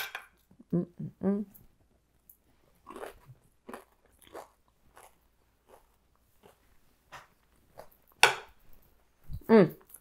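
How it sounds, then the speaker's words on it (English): A knife cutting into chicken saltimbocca with crisp prosciutto gives scattered crunchy cuts and scrapes against a plate, close and fairly loud, with a few short bursts of talk mixed in. "Cut into that crisp prosciutto."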